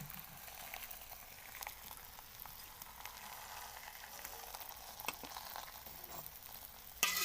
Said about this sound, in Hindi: तवा हमारा गर्म हो चुका है। मैंने इसके ऊपर ऑयल लगाया है। अब हम इसके ऊपर रोटी डाल देते हैं।